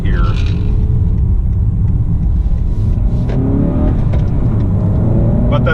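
A manual 2018 Honda Accord Sport 2.0T pulls hard from first into second gear. Its engine gives a loud, steady cabin rumble that rises in pitch and then resets briefly at the shift.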